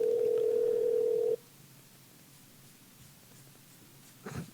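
Telephone ringing on an outgoing call, one steady electronic ring tone lasting over a second, then quiet room noise with a faint rustle near the end.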